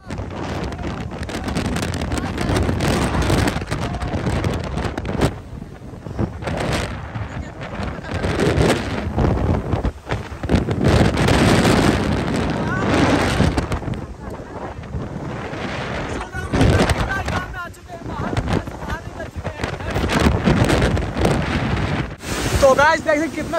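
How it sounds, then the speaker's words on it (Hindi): Strong storm wind gusting across an outdoor tribal fair in Jharkhand, rumbling and buffeting the microphone in heavy, uneven surges, with a voice talking at times over the roar. "देखिए कितना खतरनाक आंधी चल रही, कितना खतरनाक हवा चल रही है"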